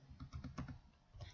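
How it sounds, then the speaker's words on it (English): A web address being typed on a computer keyboard, a quick run of soft, close key taps with a brief pause before a final few strokes. "we're going to type in"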